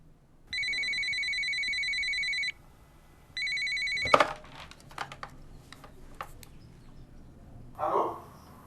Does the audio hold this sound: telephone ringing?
yes